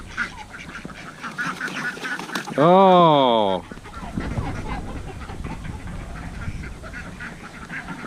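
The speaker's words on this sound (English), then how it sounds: "We're looking for a softly spoken duck with a curly tail." A single loud, nasal quack-like honk from a duck rings out close by on a rural farmstead in Thailand, set against outdoor background noise and a brief exclamation from a person.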